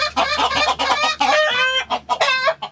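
Chickens and chicks cluck continuously and loudly at close range in a yard while feed is scattered, with dense overlapping calls and no talk.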